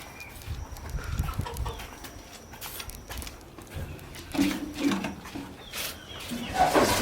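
Chickens on a poultry farm in Kenya make scattered clucks and calls amid soft clatter and shuffling, with the birds growing louder and busier toward the end.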